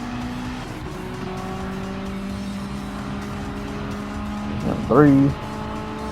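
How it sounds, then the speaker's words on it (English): Alfa Romeo 155 race car in Gran Turismo 7 droning steadily in the background while someone talks over it, then a short sharp rev sweeping upward near the end. "I love the engine noise of the 155."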